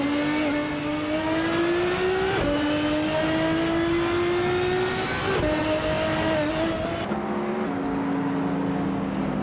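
A 1988 Porsche 944 Turbo in a racing video game revs hard through the gears, its engine note climbing steadily, dropping at each shift, then climbing again, loud and continuous.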